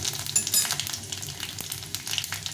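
A dried red chili and panch phoron sizzle in a couple of spoons of hot oil, a close, steady crackling fry with small pops throughout and no voices.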